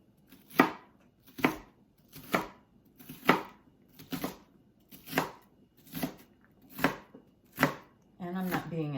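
A knife chops an onion into cubes on a cutting board while a frittata is being prepared, giving nine crisp, evenly spaced strokes close by, followed by a brief louder scrape at the end.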